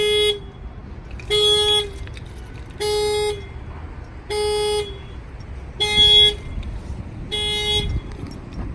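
A car alarm on a Hyundai Elantra blares in six evenly spaced loud tonal bursts, each lasting about a second with short gaps between them, heard close and outdoors.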